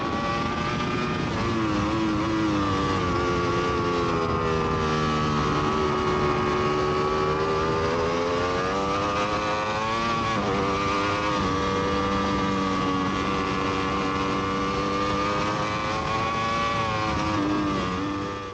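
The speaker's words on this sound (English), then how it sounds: "testing my British Superbike in 2017 before the season started" A British Superbike racing motorcycle from 2017 on a circuit during pre-season testing, its engine note loud and continuous throughout, rising and falling in pitch as it accelerates and shifts through the gears.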